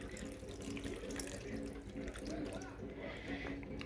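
Tap water runs steadily into a cup in a home kitchen where bacon is being cooked, a continuous gurgling splash with a few drips, moderately close and unbroken by talk.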